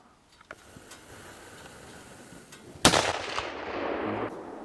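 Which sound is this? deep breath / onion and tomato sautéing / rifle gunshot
rifle gunshot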